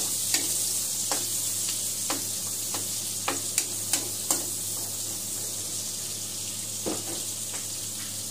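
Chopped onions sizzle steadily in a hot pan for chop suey, with a spatula or spoon scraping and tapping the pan in scattered clicks over the continuous frying hiss.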